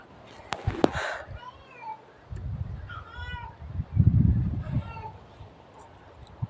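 A cat meows a few times in short, rising calls, fairly close, with background noise and low rumbling in between.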